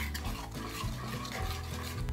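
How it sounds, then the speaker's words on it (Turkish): A spoon stirs chocolate into warm cream in a bowl to make ganache, giving close, repeated soft scraping and sloshing strokes in a steady rhythm. "İçerisindeki çikolata eriyene kadar karıştıralım."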